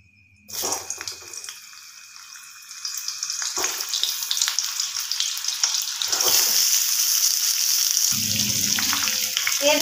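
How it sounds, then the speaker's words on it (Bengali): Steamed potatoes and cauliflower hitting hot oil in a pan, a sudden loud sizzle that settles into a continuous hiss and crackle, growing busier with occasional stirring. "আলু কপিগুলোকে পুরো লাল করে ভেজে নেব"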